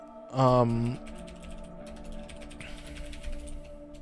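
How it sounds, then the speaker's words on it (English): Quick clicks from typing on a computer keyboard follow a short, loud tonal sound at the start, then continue faintly and irregularly. "I think I shook my entire desk from typing like 5 words"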